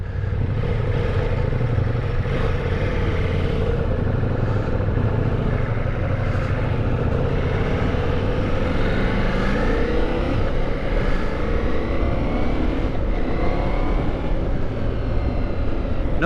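A Ducati Multistrada motorcycle rides off-road, its engine droning continuously with shifting pitch as it accelerates and eases, mixed with wind rush and rattling over rough ground.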